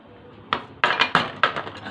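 A metal spoon picked up among kitchen utensils while making homemade crepes with mozzarella and shawarma, giving four sharp clinks and clatters in quick succession, close and clear with no talking.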